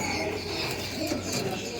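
Pigeons cooing inside a shop at a Karachi bird market, low soft coos repeating under steady background noise and a murmur of nearby voices.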